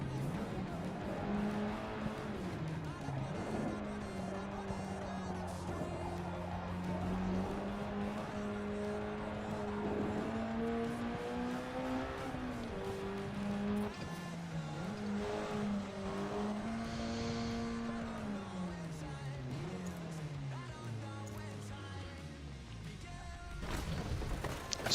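A race car in Forza drives a practice lap, its engine revving and changing pitch through gear shifts and corners, with tire squeal near the end, loud and continuous under someone talking.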